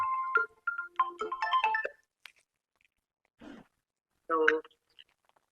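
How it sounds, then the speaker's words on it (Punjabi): A mobile phone ringtone plays a short melodic tune for about two seconds, followed by brief faint voice sounds in an otherwise quiet room. "ਆ ਲੈ ਗੁਰਵਿੰਦਰ ਫੋਨ ਕਰੀ ਜਾਂਦਾ"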